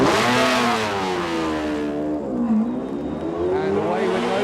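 A McLaren BMW race car at the 1995 Le Mans 24 Hours pulls away from a pit stop, its engine revving high through rising and falling gear pulls, loud and close, with a commentator talking over it.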